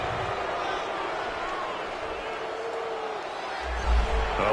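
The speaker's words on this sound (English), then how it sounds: "this crowd does not like that call" A large NFL stadium crowd at a Carolina Panthers at Atlanta Falcons game roars in a dense, sustained wash of noise after a penalty call, swelling louder near the end.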